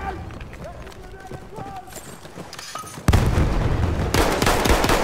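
Gunfire from enemy armor in the Battlefield 1 beta, a sudden dense burst of loud shots and blasts that keeps going after quieter game noise and footsteps, with voices talking over the action.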